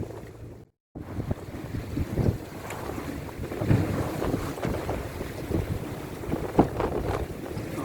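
Blustery wind buffets the microphone aboard a sailing yacht at sea off the English coast, a loud continuous rumble with gusting surges and water wash, broken by a brief dropout near the start.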